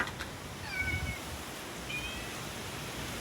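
Cat meowing faintly over a steady noisy background, with two brief high tonal cries spaced about a second apart and no talk.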